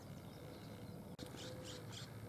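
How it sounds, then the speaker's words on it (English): A flock of red-winged blackbirds calls faintly at Lake Casitas, a few short bursts of chirps standing out over a low outdoor hum, with a thin whistled note near the middle. "so this whole flock here, these are red-winged blackbirds."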